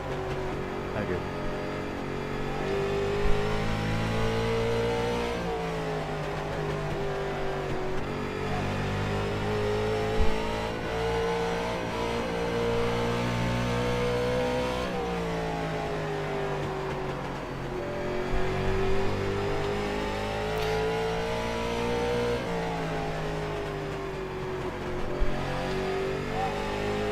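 Late Model race car engine at Concord in iRacing revving hard and unevenly as the throttle is stabbed, a continuous loud drone with rising and falling pitch sweeps and a few sharp spikes.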